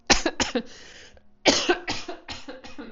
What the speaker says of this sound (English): that's normally a sign when I start coughing